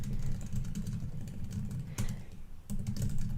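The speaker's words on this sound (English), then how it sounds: "As I keep typing," Steady rapid typing on a computer keyboard, close and clear, with a continuous patter of key clicks and a short pause near the end, no talk.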